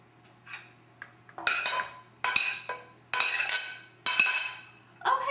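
A spoon scrapes and clinks against the inside of a pot in several close, separate bursts of rattling metal, each followed by a short pause, over a faint low hum; no talking.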